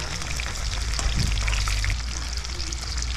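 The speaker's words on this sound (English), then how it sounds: "Now we're going to flip the cheese because it's getting brown on some of the bottom." Cheese frying in a pan in a West African kitchen, a steady, loud hiss and crackle of sizzling fat that fills the whole clip, close by, with a faint clatter as the cheese is flipped.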